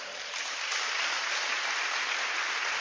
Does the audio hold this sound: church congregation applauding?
yes